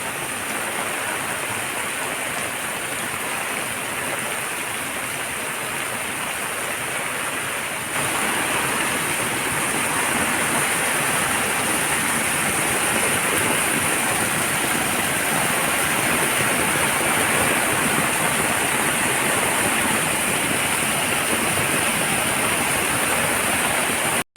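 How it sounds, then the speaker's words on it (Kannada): A small waterfall of rainwater from the hillside at home during heavy afternoon rain, a continuous close roar of falling water that grows a little louder partway through and then stays constant. "ನಮ್ಮನೆಯಲ್ಲೇ ಒಂದು ಸಣ್ಣ ಫಾಲ್ಸ್ ಆಗಿದೆ"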